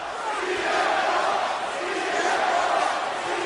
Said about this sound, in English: I don't know what the crowd are chanting out there.